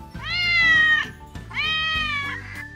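Two long, whiny cat meows from the Minecraft video game sound one after another with a short gap, loud and close, over faint background music.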